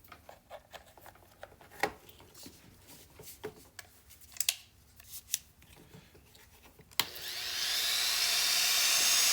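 A 10-amp power carving tool switches on through a router speed control, a loud steady whine suddenly filling the space after several seconds of scattered small clicks and handling noises.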